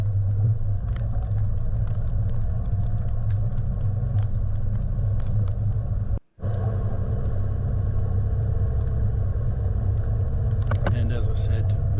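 A vehicle climbing and descending a hilly gravel track in the rain gives a steady close engine rumble with tyre crunch, cut by one brief dropout midway.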